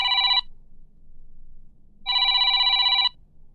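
A telephone bell rings in two loud bursts, a short one then a longer one about a second and a half later, with a quiet gap of faint background hum between them.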